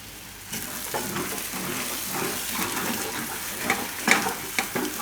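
Bajra garlic khichu cooks in a pan over a low flame, with soft sizzling and the scrape of stirring. The bubbling and clinks grow a little louder toward the end, and nobody speaks.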